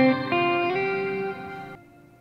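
Guitar chord ringing through shimmer reverb on a Line 6 Catalyst 100 amp, a sustained bright wash with high, glassy overtones that holds and then fades into a quieter tail, with no voices.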